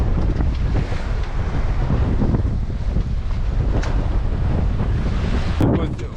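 A sailboat making about six knots at sea, with steady loud wind rushing over the microphone and waves washing against the hull throughout, continuous and close.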